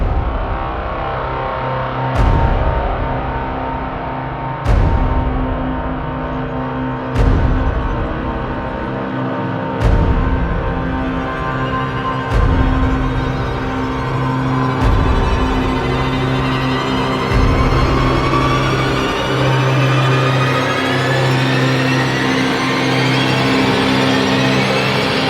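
Heavily distorted electric guitar chords struck about every two to three seconds, each left to ring and sustain, loud and alone.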